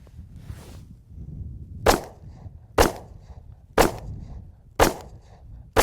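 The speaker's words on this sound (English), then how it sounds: "So let's shoot this thing." Four sharp gunshots from a home defense autoloader with a six-shot magazine ring out about one second apart, loud and close, each with a short echoing tail.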